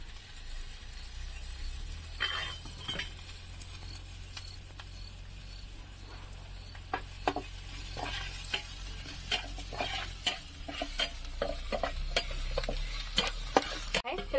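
Dry fish frying with grated coconut in a pan on a wood-fired stove, a steady close sizzle broken by repeated scraping stirs that grow more frequent toward the end, with no voices.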